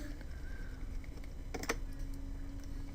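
Computer keyboard keys click during editing work, a few quiet taps and then a quick cluster of presses close to the microphone, over faint background hum.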